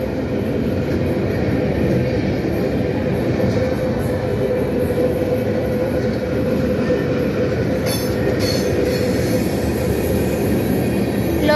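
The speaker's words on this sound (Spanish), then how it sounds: "vamos a estar aquí esperando a que termine de pasar el tren" A freight train rolls steadily past in Lagos de Moreno, Mexico, a continuous loud rumble of wheels and cars close by, with faint squeals and clatter near the end and no voices.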